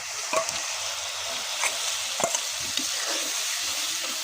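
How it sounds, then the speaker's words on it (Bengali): A mixture of spices and chicken feet poured into a hot pan for curry, a continuous loud sizzle with scattered stirring clicks and scrapes, close up and without talk. "এই যে সব মশলাপাতি মাংস এখানে গুলে নিছি, ঢেলে দিব।"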